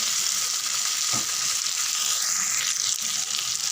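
Vavval (pomfret) fish frying in oil, giving off a continuous bright, hissing sizzle that stays close and fairly loud throughout, with no voices.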